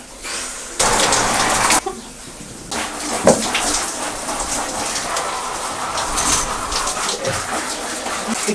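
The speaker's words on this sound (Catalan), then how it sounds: "Què fots a la dutxa a aquestes hores?" Water from a shower runs steadily in a bathroom, a loud continuous hiss and splatter that surges at times, with no voices.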